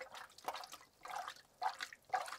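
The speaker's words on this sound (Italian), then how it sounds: "Praticamente buttiamo dell'acqua sull'immagine" Water is poured by hand over a cyanotype print in a tray to rinse it, coming in four soft splashing bursts at a steady rhythm, close and fairly quiet with no talk.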